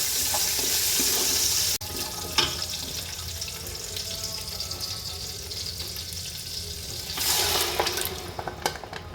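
Water gushes steadily into a pot of chicken masala at close range for cooking rice, a continuous splashing pour that briefly swells louder near the end.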